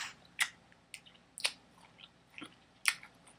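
Crab meat eaten with curry makes close, wet chewing and biting sounds that come in irregular soft bursts a few tenths of a second apart over a quiet background.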